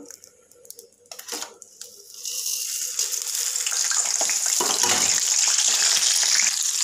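Mustard seeds, cumin and crushed garlic sizzle in hot oil, swelling up and holding steady, a loud continuous hiss after a few quieter clinks and rustles at the start.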